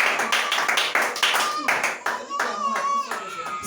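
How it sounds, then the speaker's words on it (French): A church congregation claps hands together in a lively rhythm during a French and English worship service, the applause loud and close, with voices calling out over the clapping. "Let's clap for Jesus."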